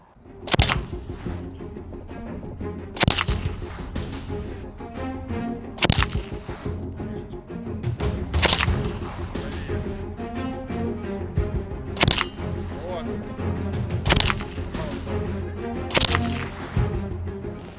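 A Sudaev PPS submachine gun fires about eight sharp single shots, spaced one to two seconds apart. Each crack stands out loudly over a continuous background hum.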